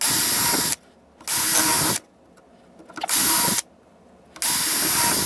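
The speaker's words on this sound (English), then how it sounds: "And now I'll drill my holes," A power drill bores pilot holes for screws into wood while building a model railroad, four loud close bursts of whirring drilling separated by short pauses of near silence.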